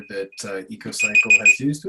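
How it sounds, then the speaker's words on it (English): An alarm goes off with a steady, high, thin tone during an event training session. It sounds for about half a second under close, continuous talking. "Oh, that's the alarm."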